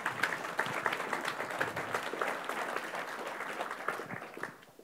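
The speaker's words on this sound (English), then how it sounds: "Yes, applause." Audience applause at the close of a tech meetup talk on data-intensive processing, a scattered mid-sized crowd clapping steadily then fading out, moderately quiet.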